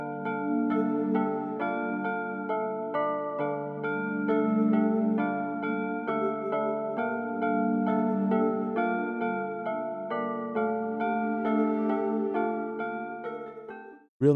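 A full trap beat built on the Arturia MiniFreak V, with bell-like melodic notes moving in a steady pattern over a sustained synth pad, dense and continuous, played alone with no voices, ending abruptly.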